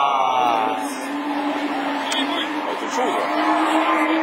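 Super 1600 rallycross cars race in a French championship practice session, engines droning loud and steady with a faint tire squeal near the end, under excited commentator talk throughout.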